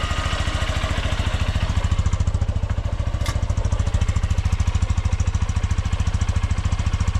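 An XR150L motorcycle engine running just after a one-touch cold start with no choke at about 38°F, a loud, close, rapid and even thumping idle that holds steady throughout, with no one talking.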